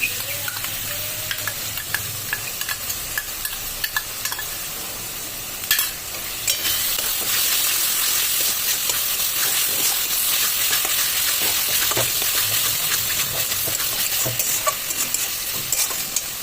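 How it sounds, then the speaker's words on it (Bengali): Ginger and garlic paste masala sautéing in a pan for chicken kosha, with a steady loud sizzle and repeated scraping strokes of a spatula that grow denser partway through, with no voices. "তার জন্য মশলাটাকে আমি ভালোভাবে কষে নিচ্ছি।"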